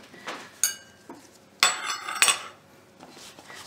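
A scoop clatters against a mixing bowl as birthday cookie ingredients go in, with three or four sharp metallic clinks and scrapes spaced through a quiet stretch, close by and without any talking.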